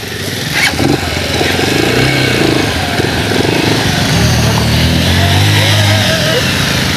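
A motorcycle engine runs close by on a trip, a steady rough idle with low throbbing and slight shifts in pitch, and voices talk faintly over it.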